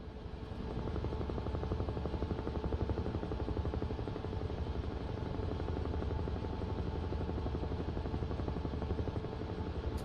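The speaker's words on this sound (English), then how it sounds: "Let's jump back in the helicopter." A helicopter flies over the Waterloo battlefield area near Wavre, Belgium, with a steady, rapid rotor chop and a constant engine drone throughout, heard from inside the aircraft with no talking.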